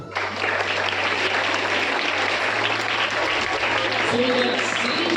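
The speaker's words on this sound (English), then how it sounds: "Claps for him." Sustained applause from a crowd at a high school Rath Yatra event, dense and steady clapping filling the whole stretch with a low hum beneath.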